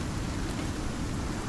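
Steady heavy rain hisses evenly in the survival game Icarus, a dense wash of noise with no distinct drops or voices.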